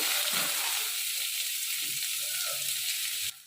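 Dried red chillies, panch phoron and chopped onion hit hot oil for a kalmi shaak chorchori, giving a loud, dense, close sizzle that hisses steadily and then drops away abruptly at the end.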